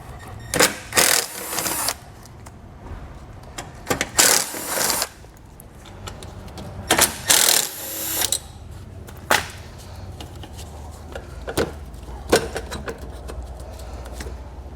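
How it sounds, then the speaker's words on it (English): A power driver spins out Torx screws with a T25 bit on a 2019 Buick Envision's lower air dam, sounding as several short, bright whirring bursts with pauses between them. "We'll remove those with a T25 Torx bit."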